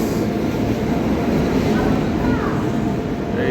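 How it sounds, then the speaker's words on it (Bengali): The Radhikapur Express to Kolkata rumbles loudly and steadily at platform 3 of a crowded Indian railway station, a constant heavy roar of wheels and carriages with faint voices underneath. "তো আমাদের কলকাতা ট্রেন চলে এসছে"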